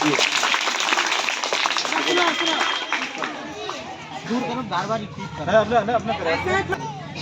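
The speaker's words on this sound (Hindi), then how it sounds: "एक बार पुनः आप लोग जोरदार ताली बजा के इसका स्वागत कीजिए" School assembly audience claps to welcome a little girl, the applause loud at first and fading into crowd chatter and excited voices.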